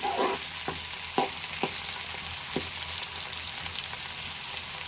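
Beans and tomato curry frying in a pan over a flame: a steady, close sizzle with a few sharp scrapes of stirring near the start, continuing alone without talk.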